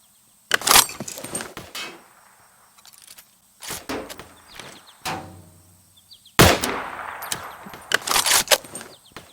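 Gunfire at an army camp shooting practice for youth cadets: several loud, sharp bangs come in scattered bursts with quieter gaps between them.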